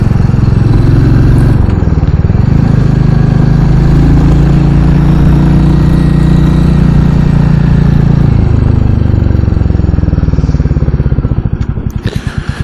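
Royal Enfield Classic 350 single-cylinder engine running while riding on Sussex country roads, a loud, close, steady thump with a brief rev change and a slight drop near the end.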